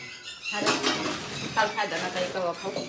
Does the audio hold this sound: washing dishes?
yes